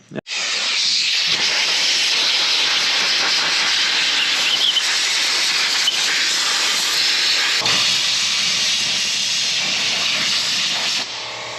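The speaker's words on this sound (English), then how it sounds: "I'm just gonna get some compressed air real quick and try and get all the dirt off that I possibly can." A compressed air blower hisses loudly and steadily as it blasts dirt off a John Deere machine, a continuous near rush that holds for about eleven seconds before cutting off.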